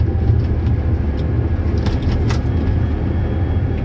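A tractor engine runs steadily while being driven, a loud continuous low rumble with faint clicks and rattles over it and no talk.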